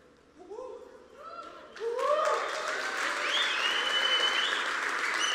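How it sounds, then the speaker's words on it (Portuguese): Applause in honour of a group of women begins after a few spoken words, then swells into loud, sustained clapping from a large audience, with voices and cheers rising over it. "eu gostaria que você desse um ótimo aplauso, honrando a vida dessas mulheres"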